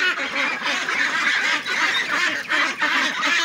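A dense flock of Peking Star 13 ducks on a farm quacks and honks continuously and loudly, many birds overlapping at close range with no pauses.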